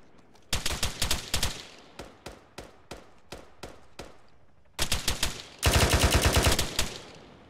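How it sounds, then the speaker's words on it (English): Heavy machine gun fire in the Arma 3 military game, loud close bursts of rapid shots, then spaced single shots, then a long sustained burst, with no talking over it. "Confirm, heavy MG to the south-southeast, over."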